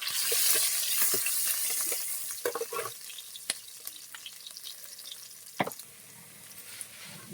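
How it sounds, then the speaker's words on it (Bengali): Fish and onions fry lightly in hot oil, a soft hiss that fades over the first few seconds, followed by scattered taps and scrapes of stirring and occasional small crackles close by. "মাছটা বেশি রিচ করে ভাজবো নি, কুলপো শাক দিয়ে আঁটবো, হালকা ভেজে নিচ্ছি"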